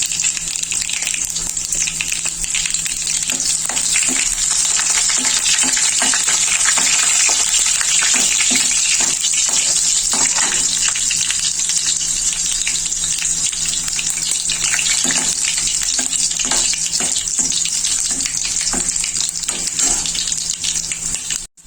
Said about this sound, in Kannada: ನೀರುಳ್ಳಿ ಕಾಯಿ ಮಿರ್ಚಿ ಪಾಡ್ದು ಫ್ರೈ ಮಾಡ್ತೇನೆ